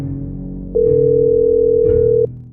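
A single long, steady telephone tone from an unanswered call sounds for about a second and a half, loud and clear over a low, droning horror-film soundtrack.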